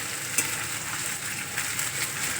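Steady sizzling of onion and garlic frying in a hot pan for egg tadka, with a few brief clinks of stirring, no voices.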